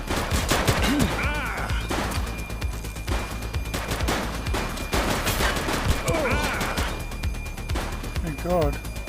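Dense gunfire rattles through a police shooter video game, rapid overlapping shots in a continuous loud fusillade, with shouted voices cutting in over the shooting.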